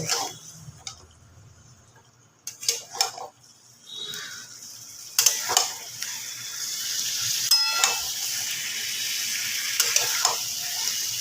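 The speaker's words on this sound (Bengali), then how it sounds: "এবার মাংসটা খুব ভালোভাবে আমি কষে নেব" Marinated chicken fries in a pan with a quiet sizzle that grows as the pieces are stirred, marked by sharp clatters of a spoon against the pan and a few short pauses.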